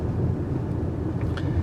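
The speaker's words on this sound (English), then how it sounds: "most of the noise you're hearing is from these large tires and wheels." A constant low roar of large tires and wheels rolling over pavement inside a 2020 Toyota RAV4 TRD, steady and loud with a dense rumbling texture.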